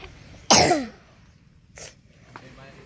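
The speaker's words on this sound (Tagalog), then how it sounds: "inuubo ang cameraman" A cameraman coughs once, loudly and close, on a road trip in a tricycle-pulled vehicle, followed by a fainter throat sound and a soft voice in the background.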